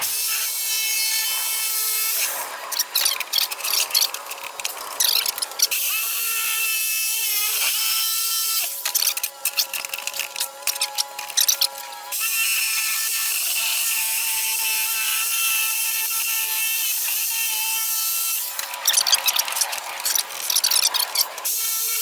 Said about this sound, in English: So now I got a jigsaw. I'm just going to cut around my pattern